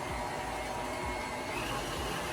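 Electric mixer whipping cold heavy cream in a bowl, a continuous steady motor whir with soft rhythmic pulses, fairly quiet and unbroken by talk.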